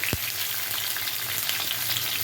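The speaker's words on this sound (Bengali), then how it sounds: "এখন আমি ছোলাগুলোও দিয়ে দেবো ছোলাগুলোও যাতে ভালো মতো ভাজা হয়ে যায়" Chickpeas and potatoes sizzle and crackle steadily in a hot pan, close by, with a constant frying hiss and no talking.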